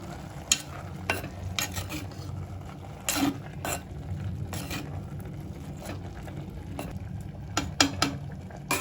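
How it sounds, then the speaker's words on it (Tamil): Keerai greens are stirred in a pan on a slow gas flame, with steady low sizzling under repeated scraping and clinking of a spoon against the metal, close and moderately quiet. "இந்த கீரையும் அப்படியே கொஞ்சம் மிக்ஸ் பண்ணிக்கலாம்"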